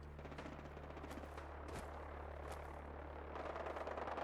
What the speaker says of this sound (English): Don't you be shooting in my general direction.